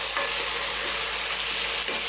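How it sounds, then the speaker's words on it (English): Sage and onions sweat in a pan just below medium heat, giving a dense, continuous close sizzle with faint stirring, steady and loud for a couple of seconds without any voices. "let's let that sweat on this kind of just below a medium heat"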